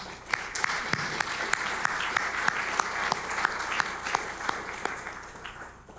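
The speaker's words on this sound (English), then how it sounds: "Let's give them all a round of applause." A conference audience at a forum on Korean unification gives a steady round of applause, with some sharp individual claps standing out above the even crowd clapping before it slowly tapers.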